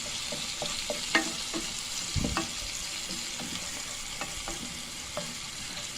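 Cumin and coriander spices fry in a little oil, a steady close sizzle with light scraping and stirring clicks scattered through it.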